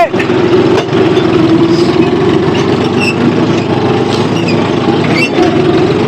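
John Deere 4x4 tractor engine running nearby, a loud steady diesel drone with a constant rumbling pulse, holding even throughout with brief dips.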